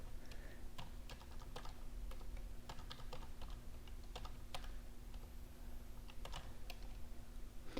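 Fingers type a library card number on a computer keyboard, quick irregular clicks of keys tapped in short bursts, close and clear over a faint steady electrical hum.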